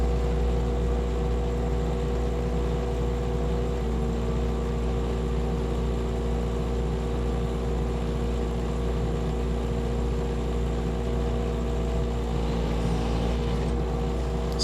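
A tractor with a soil conditioner attachment runs with a steady, loud engine drone and low rumble that hardly varies, with no distinct folding noises standing out.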